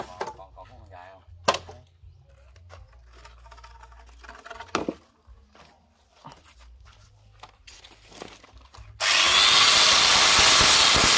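A chainsaw attachment on an angle grinder cutting wood, with scattered clunks and handling noise, then a loud, continuous high-pitched whine as the blade bites in near the end.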